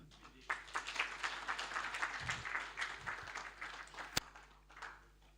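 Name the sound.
conference audience clapping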